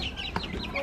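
Young chickens in a crate cluck and peep softly, a faint close cluster of short calls over a dull background hum.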